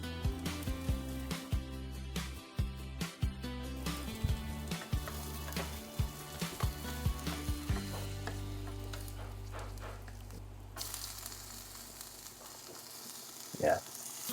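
Garlic sizzling in a pan for a Filipino ginataang tilapia, a soft frying hiss under rhythmic knocking and clattering in the first half, then a steadier, quieter sizzle with faint voices.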